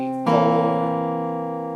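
An acoustic guitar fingerpicked with thumb and index finger plays the pickup measure of a song, a single bright strummed chord that rings out and slowly decays, close and alone.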